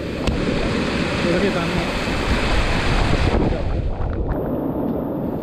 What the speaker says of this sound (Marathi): आम्ही आता फुल पाऊसमध्ये आलेलो आहे, पाणी पुरं या रस्त्यावर पाणी वाहत आहे